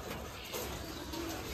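Pigeons coo softly in the background, faint low murmuring calls under a steady hiss of ambient noise, with no talking.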